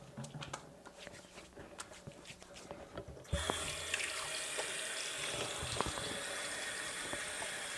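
A bathroom sink tap bursts on partway through and runs steadily, filling the room with a loud, close rush of water after quieter scattered clicks and handling noises.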